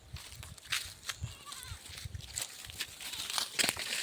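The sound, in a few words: goat bleating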